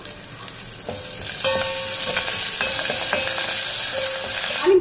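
Red chilli, asafoetida, crushed garlic and curry leaves fry in hot oil for a Telugu ponnaganti leaf dal, a close, bright crackling sizzle that builds steadily, with a few light spoon scrapes and no talk.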